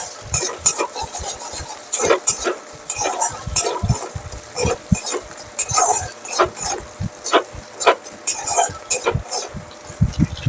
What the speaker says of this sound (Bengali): এবার এটাকে ভালো করে একটু মিশিয়ে নেব।